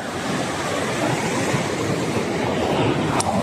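Strong sea waves at a beach in San Juan, Batangas, a steady broad roar of surf filling the whole stretch, close and loud, with no talking.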